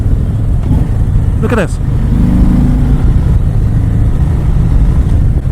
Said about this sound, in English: And the engine sounds nice, stock.